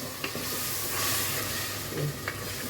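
Tomato paste cooks in a pan for a spicy Ghanaian chicken gizzard dish, giving a steady close sizzle with a few faint stirring clicks and no talk.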